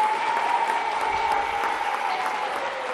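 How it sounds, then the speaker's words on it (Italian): Warm applause from an audience at a sports television broadcast, steady dense clapping filling the whole stretch at an even, moderately loud level, with a faint held tone running beneath. "Un bel applauso."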